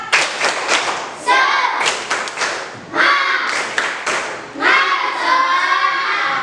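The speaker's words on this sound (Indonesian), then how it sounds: "Tepuk semangat." Classroom students in an Islamic religious education lesson doing the rhythmic tepuk semangat spirit clap, sharp patterned bursts of hand claps and thumps repeated several times with children's voices in between.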